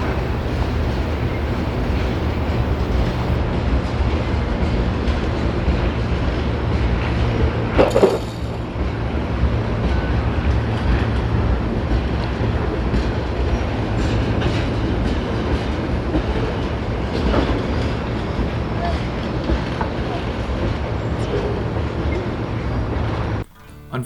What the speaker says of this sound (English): This train is a mixed train, meaning it hauls a wide variety of cargo.